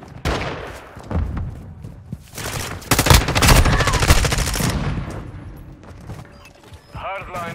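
Gunfire in the video game Call of Duty: Modern Warfare 2, rapid automatic bursts and single shots, loud and close, building to a dense volley midway, with in-game voice callouts over the shooting.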